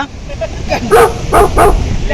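A dog by a river near a dam gives a few short, close yips and barks in quick succession, with a voice heard briefly alongside.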